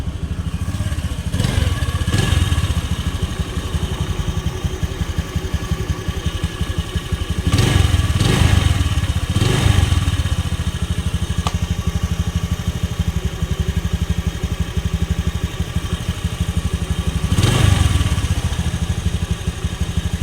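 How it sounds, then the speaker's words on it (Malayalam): A used vehicle's engine idles smoothly and steadily up close, with a few brief swells in its rumble and no talk. "വണ്ടിയുടെ എഞ്ചിൻ എങ്ങനെയുണ്ടെന്നുള്ളത് നമുക്ക് സ്റ്റാർട്ട് ചെയ്തിട്ട് നിങ്ങൾ ആ സൗണ്ട് ഒന്ന് കേട്ട് നോക്കിയിട്ട്"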